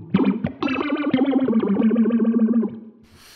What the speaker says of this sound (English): when you've got the feedback all the way up, you hear that almost like lasery sound in there